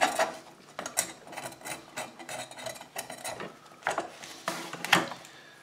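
Old paint is scraped by hand off a metal wind-up toy being restored. Short, irregular rasping strokes come close and fairly quiet, with pauses between them and no talking.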